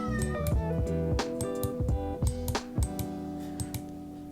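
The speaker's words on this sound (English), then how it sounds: "I'm sorry if you can hear my cat in the background" A pet cat named Gizmo meows repeatedly in the background of a quiet room, a string of short, fairly clear cries with brief pauses between them and no talking over them.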